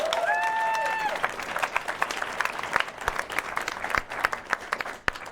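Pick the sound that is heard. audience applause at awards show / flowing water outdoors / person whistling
audience applause at awards show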